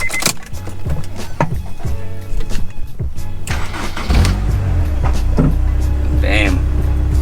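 Honda S2000 engine cranking and catching after a spark plug was cleared of stuck plastic, settling into a steady low idle that runs loud and close for the last few seconds, with background sound beforehand.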